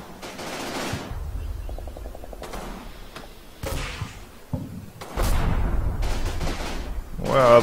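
Gunfire in the World War II strategy game Combat Mission Fortress Italy at San Pietro comes as scattered loud shots and thumping impacts, then a heavier sustained burst, with speech in between.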